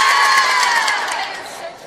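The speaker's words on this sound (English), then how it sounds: "It's not the biggest crowd I've seen in this gym, but it's the loudest crowd so far." Loud gym crowd at a NorCal high school basketball playoff game cheering and shouting in a sustained roar that slowly fades over a couple of seconds.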